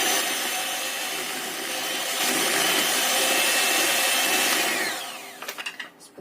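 An electric mixer whirs at low speed through cheese butter cake batter, a steady close motor drone that rises midway, then fades into a few knocks and clatters.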